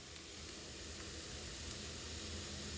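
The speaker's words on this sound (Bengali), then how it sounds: "এই যে ঘিটা দিয়ে দিলাম সামান্য" Ghee sizzling in a pan of chira pulao (flattened rice pilaf with nuts), a soft, steady hiss that holds evenly throughout with no talking.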